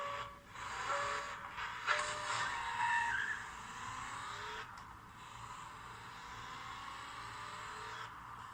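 Race cars roar and tires squeal in a video game race, with engine tones rising and falling and hissing skids, at moderate loudness without talk.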